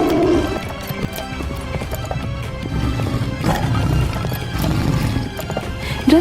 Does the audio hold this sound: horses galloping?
yes